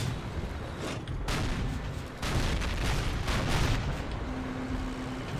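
Gunfire and explosions in Call of Duty: United Offensive, a World War II shooter, as enemy gun positions are knocked out: booming blasts and bursts of shots over a constant loud battle rumble.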